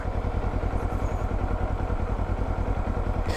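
A motorcycle engine, just started with a turn of the ignition key, idles in a steady rhythmic chug with light clatter, close and moderately loud, no talk.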